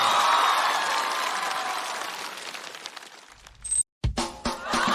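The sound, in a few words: audience applause welcoming guest on comedy show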